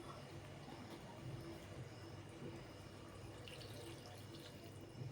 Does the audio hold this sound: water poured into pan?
yes